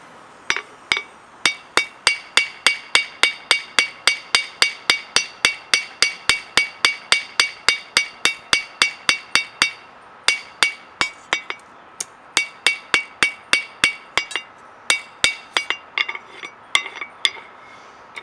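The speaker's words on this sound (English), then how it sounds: "take the face of the hammer and hit it on here" Steady hammer blows ring out on metal while forging a leaf, dozens of sharp, bright strikes flattening the metal in a quick even rhythm with a few brief pauses, close and loud.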